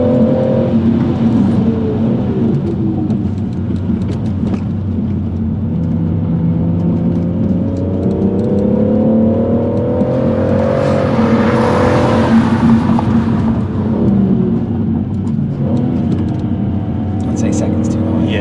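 A racing car drives a drift lap along an airfield taxiway, its engine droning and revving loudly and close throughout as people talk over it.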